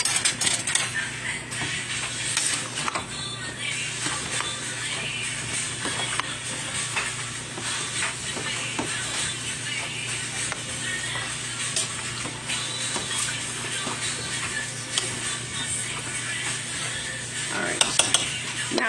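A pot of Zuppa Toscana soup with greens stirred on the stove, a continuous soft sizzle and bubbling with occasional clinks and scrapes of a utensil against the pot, low in level throughout.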